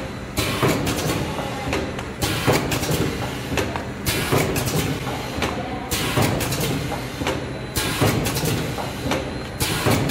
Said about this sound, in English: this is our liquid packing machine. Okay, let's start. Here, let's start the machine.